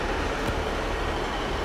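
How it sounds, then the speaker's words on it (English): A Great Western Railway passenger service departs Exeter St David's station for Paignton, producing a steady, dense rumble of engine and rolling wheels at a constant loudness throughout, with no voices. "we got the Great Western Railway Service to Paignton about to depart"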